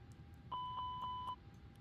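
During an APU fire test in an A321neo cockpit in Microsoft Flight Simulator 2024, a continuous bright warning tone sounds for under a second, overlaid by a few rhythmic chime pulses, set against a low, quiet cabin hum.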